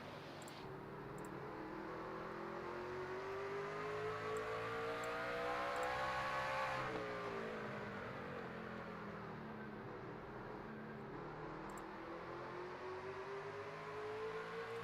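Race truck engines in the iRacing game at Dover, a steady droning roar with rising and falling revs as two trucks battle side by side, continuous and fairly even in level with no talk.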